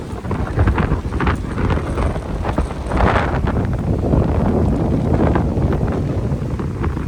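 Strong wind at a resort in Hambantota, Sri Lanka, buffets the microphone in loud, gusty bursts and rumbles, roaring unevenly throughout with no voices.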